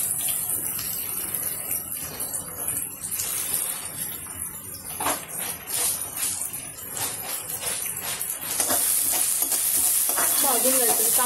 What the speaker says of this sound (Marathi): भाजून घ्यायचं. कांदा थोडा लालसर होईपर्यंत भाजायचा.